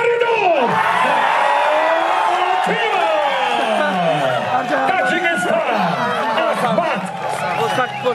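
Arena crowd at an MMA fight in Brazil cheers, whoops and yells continuously after the judges' unanimous decision, a dense, loud roar of many voices with an announcer speaking over it.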